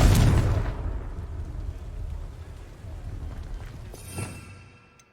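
A Confringo fire-blast spell goes off in Hogwarts Legacy: a loud, deep explosive boom at the start rumbles away over several seconds, and a second smaller blast bursts near the end.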